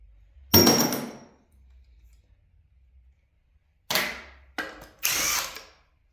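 A ratchet driving a 1/2 inch socket on 5/16 bolts from a large electric motor gives one short burst of clicking, then after a pause three quick bursts in a row, close and distinct against quiet.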